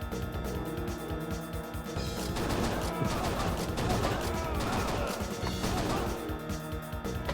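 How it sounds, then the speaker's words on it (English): Rapid gunshots and crashing impacts from the arcade light-gun shooter Virtual Cop 2, packed densely over steady game music and effects, loud and continuous throughout. "You have to shoot the guy on the right"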